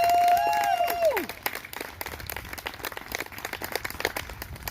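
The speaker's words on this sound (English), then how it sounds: "Clap it up for him for that, for the United States of America." A crowd applauds a Vietnam veteran, loud clapping building after a brief whoop at the start and continuing as uneven rolling applause with some cheering.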